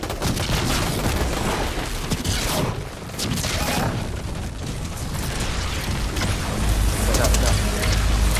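Dense, rapid video game gunfire fills the whole stretch with heavy bursts and booming impacts, and voices are faintly present beneath it.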